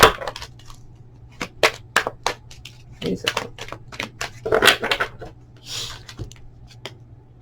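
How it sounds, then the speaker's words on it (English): Tarot cards are shuffled and pulled from a deck close up in a quiet room, giving sharp papery flicks and slaps in irregular bursts, with a soft low hum behind them. "Let me pull one more card on this."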